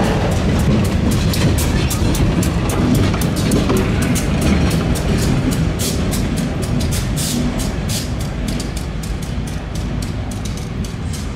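A freight train led by an old Southern Pacific tunnel motor diesel locomotive rumbles past continuously, heavy low engine drone with steady rhythmic clicking of wheels over rail joints, loud and close.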